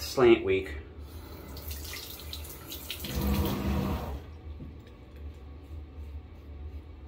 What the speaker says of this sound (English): I think part of her plumbing is behind the wall here.